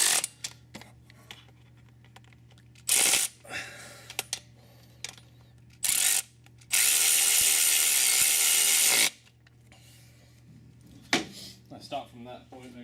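A ratchet snugging up water pump bolts on a Volvo B230/B23/B21 engine, with scattered short clicks, one long sustained ratcheting burst, and a few brief metallic clatters.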